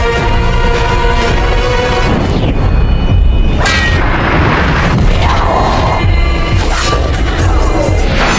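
Cannon fire in a battle scene against an enemy line at Thermopylae: loud, dense booms and crashing blasts run continuously through a full, heavy mix, with no clear gaps between impacts.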